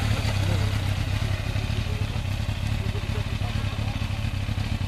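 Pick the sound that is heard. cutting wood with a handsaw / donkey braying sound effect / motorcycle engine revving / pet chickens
motorcycle engine revving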